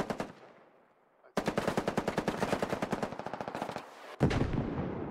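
Rapid automatic gunfire from an assault rifle and machine gun in the tactical shooter Squad, a long sustained burst of close, loud shots in steady rhythm, after a fading echo and a brief quiet, then heavier fire.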